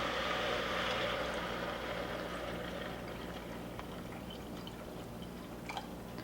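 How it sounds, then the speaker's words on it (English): Water is poured into a pot of beef curry with browned meat and onions, making a steady splashing rush that fades to light trickles and drips, close by with no talking. "Now I put water."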